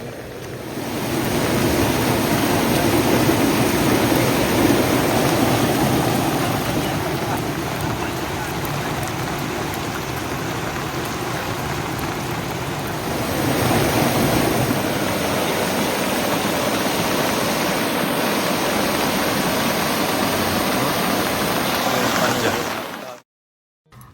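A stream of floodwater rushes in a steady, loud roar during heavy rain, with rain and wind mixed in. The sound continues for over twenty seconds before cutting off abruptly.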